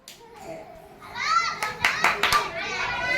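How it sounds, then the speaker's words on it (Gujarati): A group of children clap their hands in scattered bursts while a voice and children's chatter carry over the top. "હાલો તાળી મારો ભાઈ, તાળી મારો."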